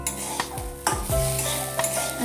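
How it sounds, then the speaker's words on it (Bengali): Potatoes fry in a pan with a loud, close sizzle, broken by several scraping stirs and clanks of a utensil against the metal. "ওর জন্য একটু আলু ভাজা করে নিলাম"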